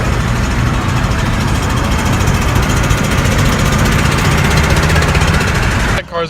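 A loud, rough car engine with rod knock runs steadily with a rapid knocking clatter throughout, then cuts out abruptly near the end.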